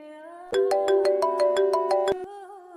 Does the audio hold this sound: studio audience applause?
no